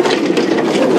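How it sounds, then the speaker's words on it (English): A safari vehicle on a WildEarth morning game drive crunches over monkey orange plants, giving a continuous loud crackling, snapping and rumbling with no talk. "sorry about the noise as we drive over these monkey oranges"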